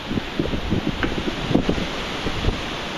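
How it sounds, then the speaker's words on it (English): Gusty hurricane wind buffeting the microphone, rough and uneven, with a few louder blasts. "it gives you a better idea how windy it is"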